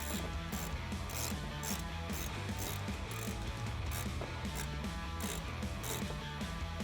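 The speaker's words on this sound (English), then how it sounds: "Go ahead and tighten it down." A Phillips bit tightens fender flare screws on a 2019-2021 Silverado 1500, giving rapid, repeated ratcheting clicks in an even mechanical rhythm that continue throughout, close and fairly loud.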